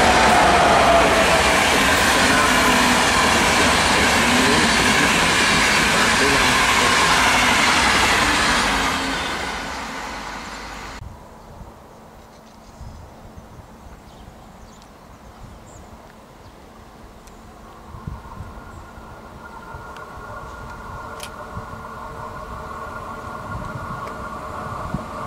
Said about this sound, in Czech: Osobní vlak směr Němšova